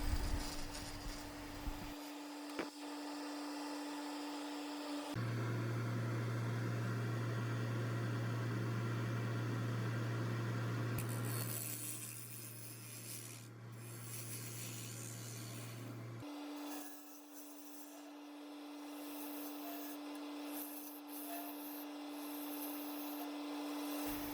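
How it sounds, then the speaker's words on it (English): A skew chisel on a wood lathe turns leftover CA glue off the outside of a maple bowl, a steady motor hum under a sustained scraping hiss that shifts in tone as the passes change. "I'm turning off what's left of the CA glue on the outside of the bowl"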